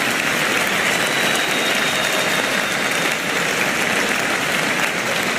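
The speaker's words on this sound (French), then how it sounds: "on peut les applaudir" Sustained, dense applause from a congregation at an ordination ceremony in Tournai, a steady wash of many hands clapping without pause, loud and close throughout.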